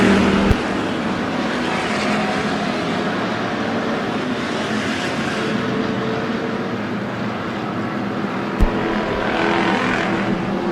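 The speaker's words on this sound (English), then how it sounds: "Sonny Simpkins just on the back side of the 29 machine at the line." Race cars at Bakersfield Speedway, a dense continuous roar of several engines under close racing, loud and unbroken with the pitch surging slightly as cars pass.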